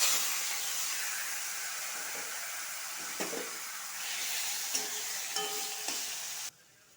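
Ginger goes into a frying pan with taro greens and sets off a steady hiss of sizzling oil. A few light clinks and stirring sounds break through before the noise cuts off sharply near the end.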